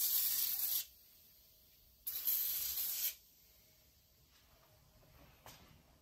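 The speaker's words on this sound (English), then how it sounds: "So spray this on and we'll let her sit." Two bursts of lye-based cleaner sprayed from a spray bottle onto engine parts, each a hissing spray about a second long with a short pause between, close and fairly loud, followed by a faint brief spritz, no talking.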